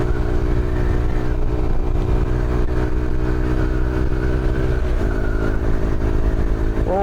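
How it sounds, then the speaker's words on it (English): A noisy 125cc motorbike passes close by with a loud, steady engine drone and shifting harmonics across the whole stretch, with no talking over it. "noisy bike coming through"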